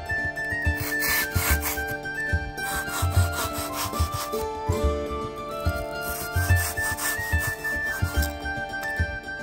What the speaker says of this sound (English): I tried to carve the rock surface